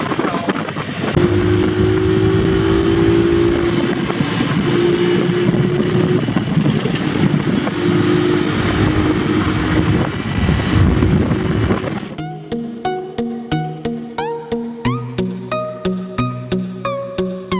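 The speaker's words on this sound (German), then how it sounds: "jetzt hängen wir hier in so einem Tuk-Tuk und heizen hier durch den Verkehr" A tuk-tuk speeding through traffic in Cambodia: a loud, continuous engine drone with rushing wind noise for about twelve seconds, then rhythmic music takes over.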